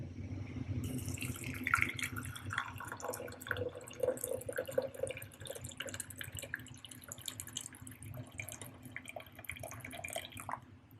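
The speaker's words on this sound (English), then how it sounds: "Now I'm gonna add in the water." Water poured from a container over torn garden herbs to make tea, a steady splashing and trickling stream with dripping, close and continuous, with no talking.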